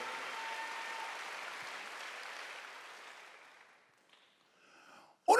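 Church congregation at a Wednesday worship service applauding together, a broad wash of clapping that fades out over a few seconds, followed by near silence and a sudden loud burst at the end.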